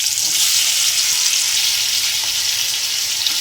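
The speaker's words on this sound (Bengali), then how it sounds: "চিংড়ি মাছটা ভেজে নেব" Prawns rubbed with salt and turmeric fry in hot oil in a wok, making a loud, steady, unbroken sizzle with no voices.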